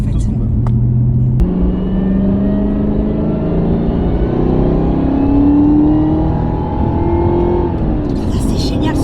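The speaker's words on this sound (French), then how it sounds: "Ah, c'est génial ce bruit de compresseur." A Chevrolet Camaro ZL1 1LE with a supercharged 659 hp engine drones loudly and steadily with rising and falling pitch sweeps, heard close up under ongoing speech.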